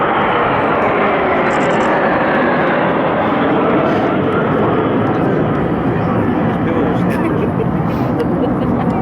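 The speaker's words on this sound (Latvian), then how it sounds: "No labās puses lidmašīnas mums tuvojas ar ātrumu 600 km/h griezienā pret mums." Baltic Bees jet aircraft at an air show in Daugavpils, turning toward the crowd at 600 km/h: a loud, steady roaring jet rush that fills the whole stretch, with the whine barely changing.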